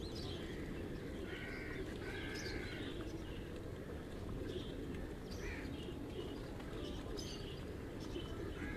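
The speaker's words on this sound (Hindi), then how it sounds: "कबूतर आसमान में अपनी मंजिल की तरफ रवां दवां" Pigeons flying over a rooftop on a pleasant early morning, with soft coos and chirps against a steady wind-like background hiss and no clear wingbeats.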